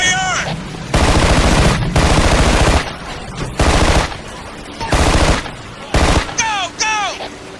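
Heavy suppressing automatic gunfire in the Ghost Recon 2 video game, loud repeated bursts of rapid fire separated by short gaps, with shouted voice callouts heard between volleys.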